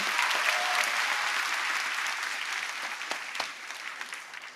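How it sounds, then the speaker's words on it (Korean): A church audience gives a steady round of applause, a dense wash of many hands clapping that slowly thins and fades toward the end. "박수 한번 해드릴까요?"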